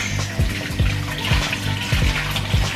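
Water runs from a kitchen tap over fresh asparagus being washed, a steady rushing stream broken by a few louder splashing pulses as the spears move under it.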